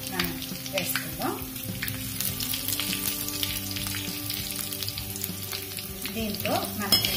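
Dried red chillies sizzle in hot tempering oil with ginger pieces, green chilli and curry leaves, a steady crackling fry for sorghum flakes pulihora that runs loud and close throughout, with occasional stirring.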